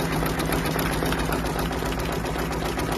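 A Baby Lock Capella embroidery machine stitches through a topper and 3D puff foam, giving a steady, close, rapid mechanical whirring and clattering that runs unbroken throughout.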